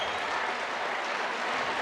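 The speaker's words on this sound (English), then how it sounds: "Getting a nice round of applause here" Steady crowd applause fills a high school gym at a boys' basketball game between the Fergus Falls Otters and Willmar Cardinals as senior players head to the bench, a dense continuous clapping throughout.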